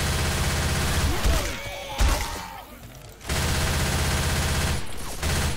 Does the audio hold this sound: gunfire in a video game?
yes